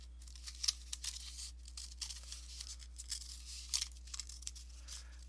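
Scissors cutting through paper to trim the even bottom edge of a small paper tree ornament, a run of quiet, irregular snips and crinkles over a steady low hum, with no talking.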